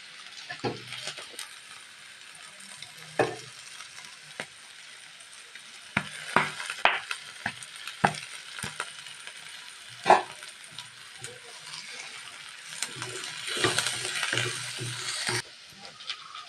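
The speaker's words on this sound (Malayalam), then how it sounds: "സവോള ഇഞ്ചിയും വെളുത്തുള്ളി എല്ലാം നല്ലപോലെ വഴന്ന്" Onion, ginger and garlic sauté in a pan with a steady broadband sizzle, broken by sharp clicks and scrapes of stirring that come in irregular bursts, with no talk.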